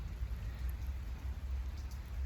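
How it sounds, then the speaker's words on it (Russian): Steady outdoor rain falls in a soft, continuous hiss with low rumbling undertone, faint and even throughout with no voices. "дождик же идет"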